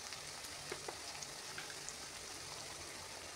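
Spices sizzle gently in hot oil for a potato and cowpea bean curry, a soft continuous frying hiss with faint crackles and pops, fairly quiet and close.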